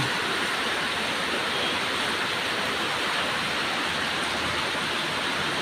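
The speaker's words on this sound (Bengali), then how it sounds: "কি জোর বৃষ্টি হচ্ছে" Heavy rain pours down in a dense, unbroken roar beside a road, loud and steady throughout with no voices.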